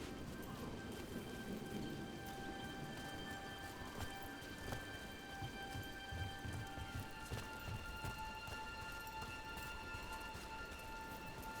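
Steady rain falls in Dragon Age: The Veilguard, a continuous wet hiss with scattered drops and faint thudding, filling the scene without talk.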